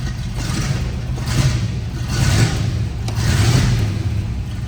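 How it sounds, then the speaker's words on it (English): A restored 1956 Corvette convertible's 265ci V8 being revved, its engine swelling in three or four short rises over a steady rumble, close and fairly loud. "I'll give it a couple revs for you guys."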